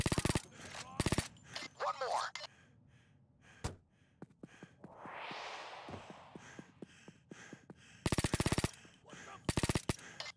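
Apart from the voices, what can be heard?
gunfire in Payday 2 video game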